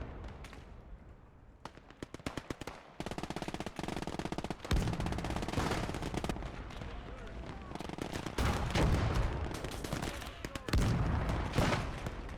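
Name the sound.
machine gun fire in the video game Gates of Hell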